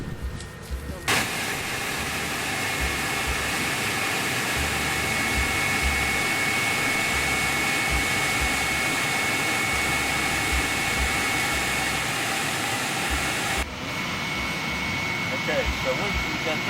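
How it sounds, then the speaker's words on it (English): An electric blower switches on to inflate a bounce ride, jumping straight into a loud, steady, close roar that holds for over ten seconds before shifting abruptly near the end. "Inflate the ride by turning the switch on at the blower."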